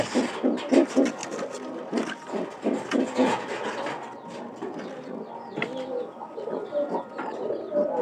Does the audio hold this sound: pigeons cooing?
yes